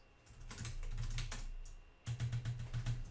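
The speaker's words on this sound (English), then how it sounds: "Then I would type some analysis." Close, quiet clatter of fingers typing on a computer keyboard in two quick bursts of keystrokes separated by a short pause.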